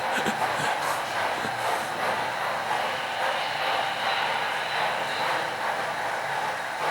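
An HO scale model coal train runs along its layout with a steady, even rolling whir and rattle, close by and with no speech over it.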